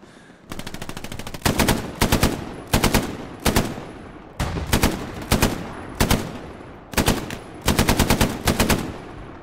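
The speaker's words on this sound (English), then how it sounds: "I got a machine gunner" Bursts of machine gun fire in the WWII shooter game Hell Let Loose, several rapid, loud volleys in quick succession separated by short pauses.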